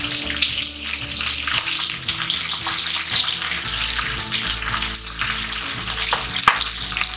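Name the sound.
chicken pieces frying in pan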